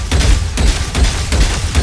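Video game gunfire in a practice range, with rapid bursts and tapped shots firing in quick repeated clusters, loud and close with a punchy low thump on each round.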